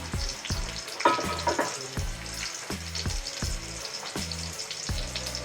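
Chopped onion and bay leaf frying in a pan crackle and sizzle loudly and close, with regular rhythmic stirring strokes scraping the pan about twice a second.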